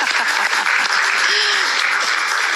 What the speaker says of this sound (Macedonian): Испраќаме Милена само со аплауз.